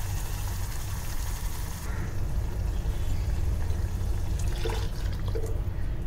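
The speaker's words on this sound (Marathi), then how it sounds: "आता मिक्सर धुवून आपण पाणी ऍड करणार आहोत" Water is poured from a rinsed mixer jar into Malvani rawas fish curry cooking in a clay pot over gas, a steady broadband splashing rush that shifts and thins partway through, with no talking.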